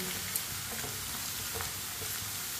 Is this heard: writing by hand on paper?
no